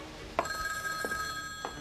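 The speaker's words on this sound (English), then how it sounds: "I recreate sound so lifelike that even genius there believed the phone was ringing" A telephone ringing as reproduced through Cerwin-Vega speakers, a steady electronic ringing tone with a few soft knocks over it, heard fairly close, with a faint murmur of voices in the background.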